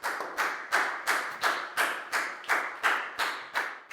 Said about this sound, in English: give yourselves all a big round of applause because that was excellent